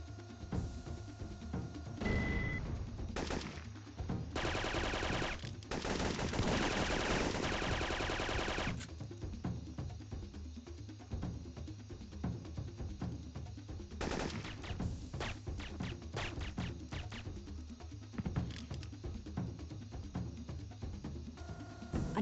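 Automated jungle turrets firing in Syphon Filter: bursts of rapid machine-gun fire, several sustained volleys and scattered single shots, loud and close, with no voices.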